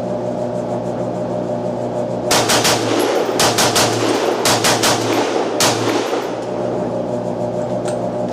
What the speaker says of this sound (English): And I'm shooting ammo from the 40s.